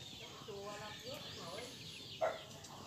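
Chickens in a garden coop cluck softly in the background amid quiet ambience, with one sharper, louder squawk near the end.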